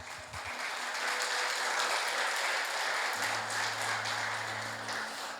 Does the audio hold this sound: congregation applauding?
yes